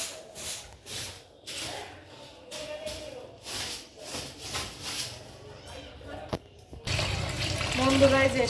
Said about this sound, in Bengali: শাকগুলো ধুয়ে নিচ্ছি ভালো করে